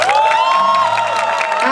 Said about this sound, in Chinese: 让我们热烈的掌声感谢青青农场